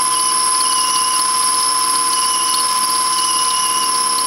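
A machine takes a steady cut through aluminum on a homemade four-cylinder Briggs engine project, giving a loud, continuous high-pitched whine that sings evenly throughout with no pauses or speech.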